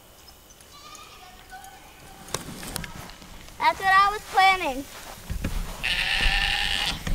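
Goats bleat loudly several times in a farm pen, a run of wavering cries in the middle with a longer call near the end, while people talk nearby.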